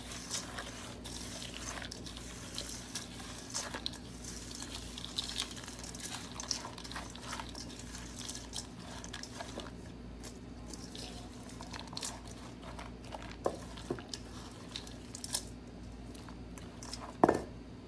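A whole sleeve of regular crackers being crushed in a kitchen while cooking a Southern supper, giving scattered dry crunches and crackles close up, with a sharper burst near the end and no talk.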